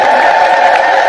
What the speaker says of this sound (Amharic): እልል በሉና አመስግኑላቸው።